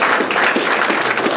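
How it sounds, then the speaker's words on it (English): A short burst of clapping from people at a Kansas City meeting, brisk and fairly close, lasting just over a second with no talking over it. "I just want to give a round of applause for all the guys that did get to work."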